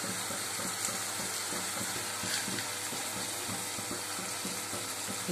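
Chilies, curry leaves and turmeric fry in hot oil for a Telugu-style chicken fry, giving a steady, close sizzle with light crackle and occasional stirring scrapes throughout, no voices.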